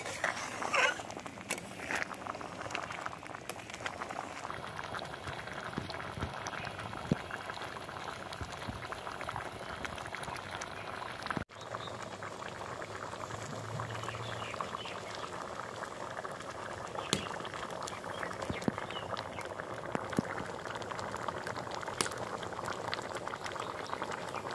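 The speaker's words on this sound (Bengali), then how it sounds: "দেখুন ভালো করে ফুটে গেছে।" Ghugni, a dried pea curry, bubbles steadily in a pot, with soft continuous popping and simmering close by at a low, even level and a brief bump midway.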